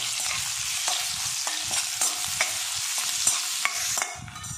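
Cubed onions frying in a pan, a close crackling sizzle with regular scraping stirs and spatula clacks every second or so, alone without speech.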